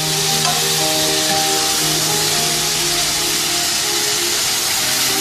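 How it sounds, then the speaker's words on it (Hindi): Fried mutton keema crackling in a pot of gravy for keema biryani, a dense, loud, steady sizzle with stirring that continues unbroken throughout. "जो कीमा भून के रेडी किया था वो अब इसमें ऐड कर देंगे।"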